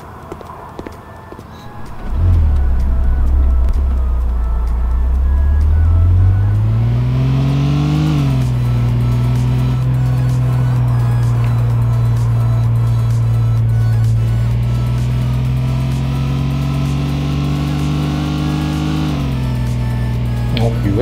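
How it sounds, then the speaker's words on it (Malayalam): A car in the video game The Sims 4 starts up and accelerates, its engine tone rising loudly before settling into a steady, close drone, with some talk over it. "വണ്ടി എടുത്തൊന്ന് സ്ഥലങ്ങളൊക്കെ ഒന്ന് കണ്ടേച്ച് വരാം."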